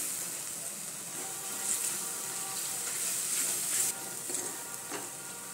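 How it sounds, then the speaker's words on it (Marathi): Yogurt masala sautés in oil for dhaba-style dum aloo, a soft, even hiss of frying with occasional faint stirring taps, fairly quiet throughout. "दही चांगलं तेलामध्ये परतून घ्यायचं, तेल सुटेपर्यंत"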